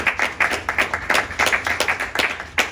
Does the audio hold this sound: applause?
yes